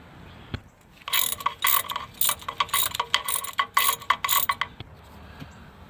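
A ratchet turning 14 mm oil pan bolts on a 2008 Suzuki Forenza, heard as rapid, close clicking bursts in repeated strokes, framed by quieter pauses at start and end.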